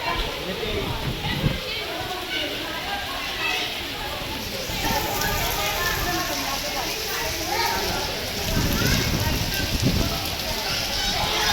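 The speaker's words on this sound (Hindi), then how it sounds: "भाई बहुत तेज़ बारिश आ गई यहाँ पे जटोला में" Heavy rain pours down at a village fair in Jatola, a dense steady hiss of drops on surfaces throughout, with people talking over it and faint crowd noise.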